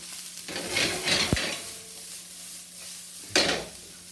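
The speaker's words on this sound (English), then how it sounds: "So we're going to start sauteing this together." Pork and jalapeños sautéing in olive oil over high heat in a pan, a soft steady sizzle broken by a few stirring scrapes and clinks of a utensil against the pan.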